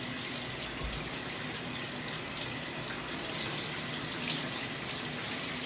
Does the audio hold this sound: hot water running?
yes